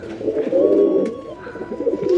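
A pigeon coos close by in low, soft rolling murmurs, a steady throaty call with a brief pause before it resumes.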